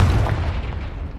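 A Confringo blasting spell explodes in the Hogwarts Legacy video game, a loud close boom with heavy low rumble that decays over about a second.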